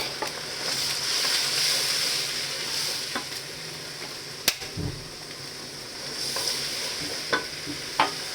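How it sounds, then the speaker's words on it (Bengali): Cumin, garlic and ginger paste fries in a pan with a steady hiss, and a spoon scrapes and clicks against the pan now and then. It is fairly close and no one talks. "একটু জিরা বাটা, একটু রসুন বাটা, আদা বাটা এগুলো একটু দিয়ে দিলাম, নেড়ে দিই।"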